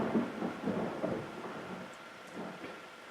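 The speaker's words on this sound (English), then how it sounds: "Pause for thunder." Low, rolling thunder rumbles in a stormy scene, with a few soft swells of rumble over a steady background wash and no voices.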